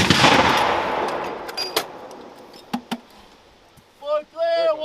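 Rifle gunfire during infantry live-fire training with Army National Guard soldiers, heard as a loud burst at the start followed by a few sharp single shots echoing outdoors, with voices shouting commands at the end.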